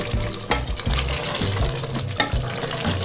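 Mutton korma masala frying in a karahi as it is stirred, with steady close sizzling and repeated scraping strokes of the spoon across the pan, no talking.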